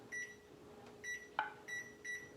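An electronic kitchen timer beeps in evenly spaced pairs of short tones during home canning of garden greens, with one brief sharper click among them, in a quiet room.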